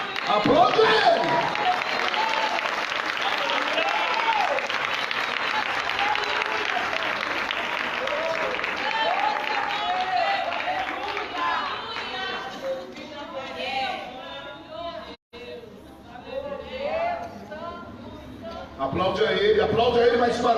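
A church congregation applauds loudly for several seconds amid cheers and crowd voices, the clapping thinning as a voice speaks over it, then a fresh burst of applause at the end.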